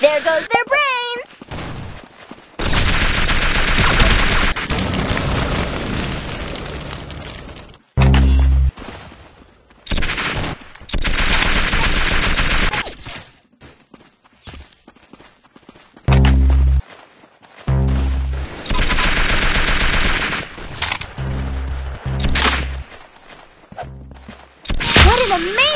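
Gunfire in the Roblox shooter Arsenal comes as loud, dense bursts of game weapon shots and thuds in several long clusters, mixed with game sounds and clipped, heavily compressed audio.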